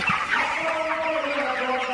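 Nearly full-grown broiler chickens, about 2 kg, clucking at night on a poultry farm, a soft continuous murmur of overlapping clucks and chirrups with no voices.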